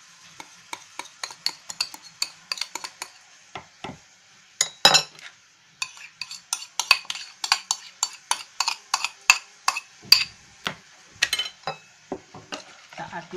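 A spoon stirs cheesecake batter with yogurt in a bowl, giving a steady run of sharp, close clinks and scrapes against the bowl, with a short pause partway through.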